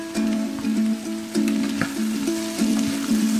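Mixed vegetables and chopped bell pepper frying in a pan for egg fried rice, a moderate crackling sizzle with scattered stirring taps over a steady low hum, close by.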